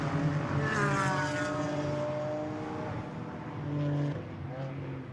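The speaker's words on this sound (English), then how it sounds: "Next wave of cars goes through." GT4 race cars roaring past at Misano circuit, a sustained loud engine drone with shifting pitch as one car passes and another follows, no talk.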